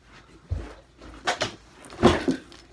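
Drawer or cupboard being opened and closed during a rummaging search, several short wooden knocks and thumps close by, a few separate bumps over a couple of seconds with no talking.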